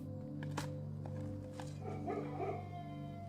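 Dogs barking in the video game Blue Prince, a few short barks over a steady droning game soundtrack, moderately loud and mixed with ambient music.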